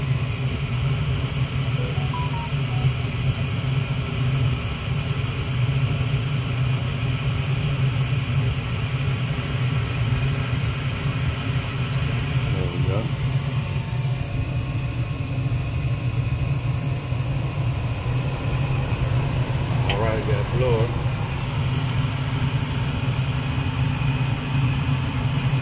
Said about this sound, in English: Waiting on my blower motor.